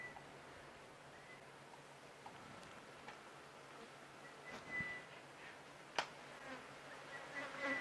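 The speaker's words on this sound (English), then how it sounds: "Can you hear the flies as well as they're buzzing around?" Faint buzzing of flies around an open safari vehicle at sunset, a soft continuous drone with a few small ticks and clicks, distant and quiet.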